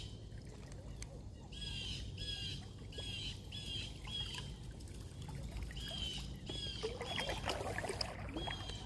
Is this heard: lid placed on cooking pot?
no